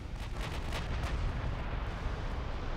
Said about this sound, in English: Ammo detonation.